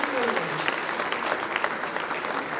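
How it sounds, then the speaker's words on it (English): Loud, steady applause from an audience at a school performance of young kindergarten children, dense clapping sustained throughout with a faint voice briefly audible early on. "Pujit, loud round of applause, ladies and gentlemen."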